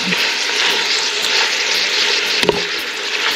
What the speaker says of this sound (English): while you're cooking your meat